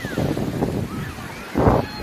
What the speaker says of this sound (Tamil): இந்த கடற்கரையில் அலைகள்லாம் ரொம்பவே அதிகமாக ஆக்ரோஷமாக இருக்குது.